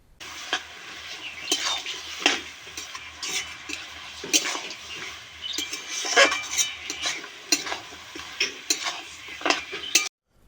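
A fried fish head goes into cabbage frying in a pan, with repeated metallic scrapes, clinks and clatter of a utensil stirring against the pan, close and uneven, under a soft background hiss.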